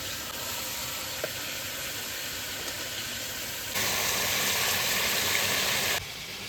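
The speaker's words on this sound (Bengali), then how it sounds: "শুধু তেলের উপরে ভাজা হচ্ছে" Mutton pieces frying in plain oil in a pan with no spices, giving a steady close sizzle that turns louder and brighter partway through before easing back near the end.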